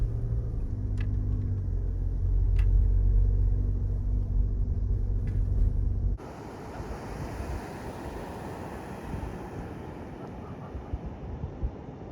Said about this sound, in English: we got to the beach